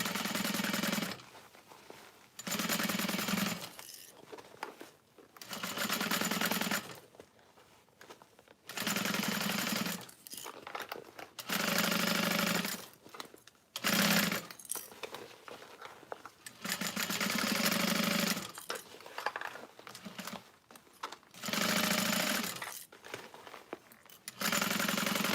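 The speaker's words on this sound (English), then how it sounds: "So I'm going to end my stitching." Domestic sewing machine stitching the lining of a vanity bag in repeated bursts of rapid mechanical chatter, each run lasting a second or two and separated by short pauses.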